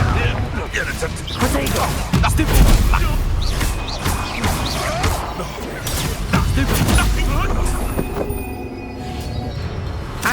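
Blasting Confringo spell explosions in Hogwarts Legacy battle, repeated booms and crackling bursts through a busy combat soundscape, with a voice calling out over the fighting.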